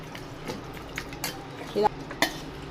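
Goat head meat pieces are scraped and dropped into a metal pressure cooker, with faint clinks of a spoon against the pot and soft scraping, a louder metallic knock near the end.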